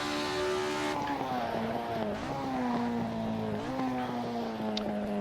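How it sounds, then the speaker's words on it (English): An Assetto Corsa race car slides as its front end washes out, the engine droning loud and steady with pitch dips and rises, a faint tire scrub running underneath throughout. "The car just slides away, the front end washes out."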